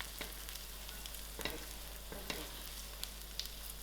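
Finely sliced garlic fries in oil with a steady sizzle, a few stirring clicks, and a low hum in the background.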